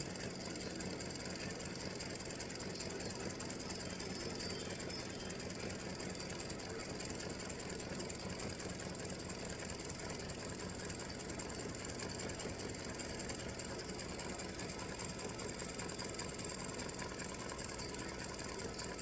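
An embroidery machine stitches out a freestanding-lace gift tag ornament design, running as a steady, continuous mechanical whir and rapid needle chatter that fills the whole stretch without pause or talk.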